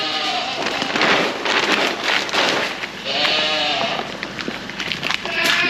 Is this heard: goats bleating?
yes